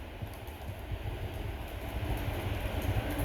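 An O scale Santa Fe model train runs around a large wooden trestle loop, giving a steady low rumble with light rhythmic clicking of wheels over track joints that grows slightly louder as it nears.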